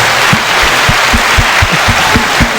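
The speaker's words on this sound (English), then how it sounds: "I want to give everybody a round of applause" Audience at a live podcast interview event clapping steadily, a dense, loud wash of applause with some individual claps standing out near the mics, no voices over it.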